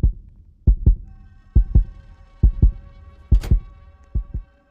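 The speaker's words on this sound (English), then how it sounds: "I don't like the heartbeat." Heartbeat effect from the Roblox game Flee the Facility: loud paired thumps, about five or six double beats in steady rhythm, each a deep close pulse over a faint hum, with no speech.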